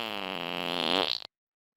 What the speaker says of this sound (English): It's gonna take a lot more than a fart in my face